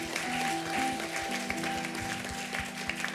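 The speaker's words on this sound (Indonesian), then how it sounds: "Tepuk tangan buat Tuhan Allah kita." A church congregation at a revival service claps together in a dense, steady burst of applause, with a sustained organ or keyboard chord droning underneath.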